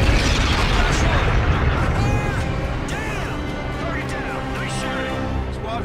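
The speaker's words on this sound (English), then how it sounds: "I think I was a little too close to that explosion to survive there" Explosion in the Call of Duty: Infinite Warfare game, a loud dense blast with rumbling debris and sweeping whooshes that stays steady for several seconds, with faint game voices mixed in.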